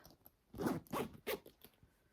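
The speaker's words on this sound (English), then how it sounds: "On the back side, you actually have a zipper area." A zipper on the back pocket of a purse is pulled in three quick, crisp rasping strokes, close and clear against a quiet room.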